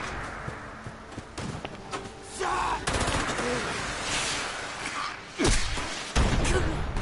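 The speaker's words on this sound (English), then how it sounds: "What the hell are you shooting at?" Video game gunfire sounds as a few sharp, punchy shots over a busy bed of game noise, with the loudest bangs near the end.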